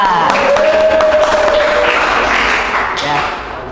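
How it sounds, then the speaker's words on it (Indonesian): A classroom full of students claps for a presenter at the start of a microteaching lesson on a fiqh topic, a dense, steady wash of applause with chatter mixed in, close and loud throughout. "Ya, tepuk tangan."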